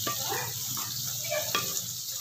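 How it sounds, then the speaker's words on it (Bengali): Shahi paneer masala being sautéed in a pan over medium flame, a steady close sizzle of frying with soft stirring scrapes and a couple of brief clinks. "এটা ভালো করে কষাতে হবে।"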